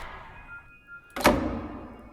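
A door in Remedy: A Carol Reed Mystery, opened with a ring and wire in place of a key, gives one sharp close thunk with a short dull tail after a quiet lead-in.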